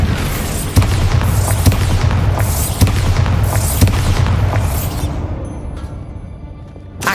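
Bombarda spell blasts in Hogwarts Legacy, a loud, rumbling series of booms with repeated sharp impacts roughly every second or two, fading toward a quieter tail near the end, with no talking.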